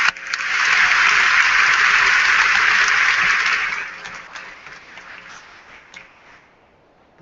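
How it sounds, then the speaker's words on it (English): A commencement audience applauds honors students with loud, dense clapping that holds steady for about four seconds, then thins into scattered claps and fades toward quiet. "Once again, a round of applause for our honors students."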